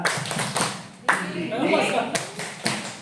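Rhythmic spirit clapping by a group in a classroom-style session, sharp claps falling in a patterned beat with short pauses, mixed with voices chanting along.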